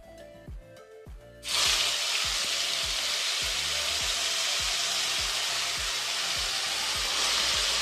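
Ginger, onion and garlic paste dropped into hot oil bursts into a loud, steady sizzle that keeps going, with occasional light tapping of a utensil underneath.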